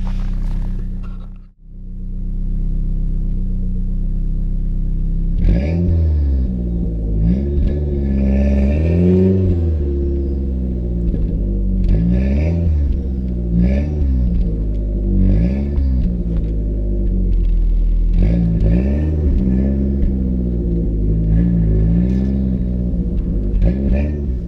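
A DIY turbocharged Ford Focus engine idles after warming up, then revs repeatedly in rising and falling bursts while trying to drive out of snow, a close, rumbling, effortful sound with no talking.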